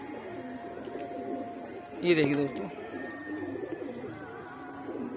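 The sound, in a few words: pigeons cooing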